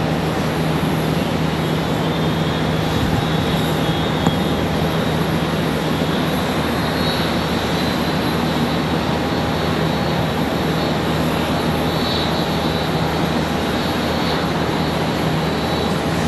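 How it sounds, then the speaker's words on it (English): Airliner touching down smoothly on the runway at Charlotte Douglas International, a constant broadband rushing roar of engines and airflow, steady and unbroken throughout, with no voices. "Nice smooth touchdown."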